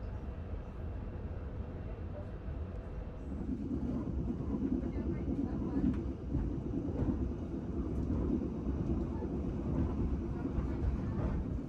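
The KA Malabar Priority train departing Kepanjen station, heard from inside as a low rumbling roll that swells after a few seconds into a steady, moderately loud rolling drone.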